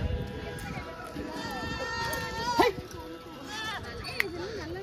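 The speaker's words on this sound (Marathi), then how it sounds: "बकरी." Goat bleats rise among a crowd near a temple site, with people talking throughout and children's voices mixed into the busy outdoor background.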